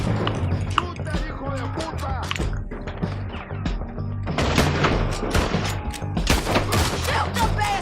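Gunfire in the Red Dead Redemption 2 video game comes in dense, overlapping volleys and sharp cracks, loud throughout, with some voices mixed in.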